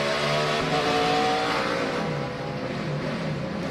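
Onboard engine of a NASCAR race car in the 2006 Ford 300, revving loudly and steadily with shifting engine tones as the transmission fails to find a gear, no talk over it.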